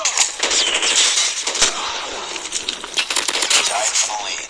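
Dense rapid automatic gunfire in a Call of Duty Mobile match, loud and close with crackling bursts and a few sharper cracks running continuously.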